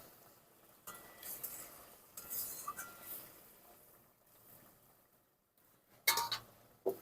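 Chopped coriander is stirred into a bhola fish curry in a pan, giving soft, intermittent scraping with a few sharp metallic clinks near the end, quiet and close.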